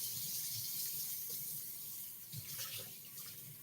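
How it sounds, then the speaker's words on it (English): Hands being washed under a running kitchen sink tap, a steady soft hiss of flowing water with faint splashes of hands moving beneath it, close and quiet with no talking. "let me go wash my hands"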